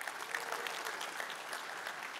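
A keynote audience at a tech conference claps together, a dense and even patter of many hands at moderate level that holds steady for a couple of seconds, with no clear voices over it.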